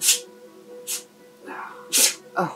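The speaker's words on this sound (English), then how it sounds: "My lovely little husky's having a sneezing fit." A husky dog having a sneezing fit indoors, several sharp sneezes in quick succession at close range, with a person briefly speaking in between.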